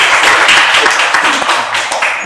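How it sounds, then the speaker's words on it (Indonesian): Audience applause during a podcast event on the Jember Fashion Carnival, loud continuous clapping from a gathered crowd that tapers slightly at the end. "Tepuk tangan"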